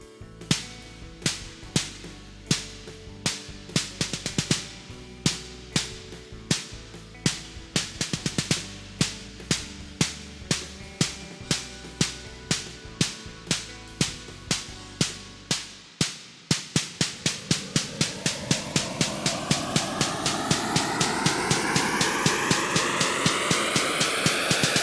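A VPS Avenger synthesizer pulses in sharp, rhythmic electronic hits, then swells into a bright, rising noise sweep that builds steadily louder toward the end.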